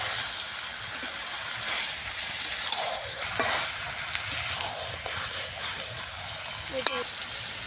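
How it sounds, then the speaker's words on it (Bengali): Chicken pieces being stirred and fried in a pan for a home-style desi chicken curry, a steady close sizzle with scraping spatula strokes throughout, brief clinks here and there, and a voice speaking over it. "এবারে মাংসটাকে আমি ভালো মতো কষিয়ে নেব"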